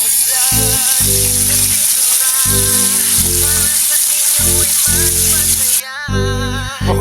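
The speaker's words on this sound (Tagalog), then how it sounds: "so ayan na muna, prito isda mga Tamos" Fish fries in hot oil in a rural home kitchen with a constant loud, close sizzle, while a steady thumping rhythm of background music runs underneath.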